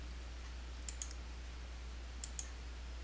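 A computer mouse clicks in QuickBooks Desktop Pro 2021: two pairs of faint, crisp clicks spaced apart over a low steady hum, with no talk.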